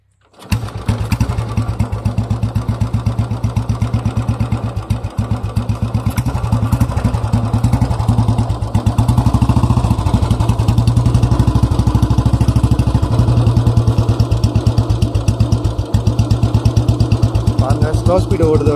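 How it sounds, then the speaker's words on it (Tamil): A 2002 Royal Enfield Bullet Electra motorcycle starts up and settles into a loud, steady thumping idle close by, its rhythmic single-cylinder beat continuing throughout with a voice talking over it. "வாங்க வண்டி ஸ்டார்ட் பண்ணி காட்டுறேன். வண்டி ஸ்டார்ட் பண்ணி காட்டுறோம் பாருங்கள்."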